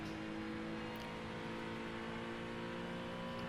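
Steady droning engine of a GT3 race car in iRacing at the Detroit street circuit, a continuous even whine and hum held at a constant level throughout, with no talking.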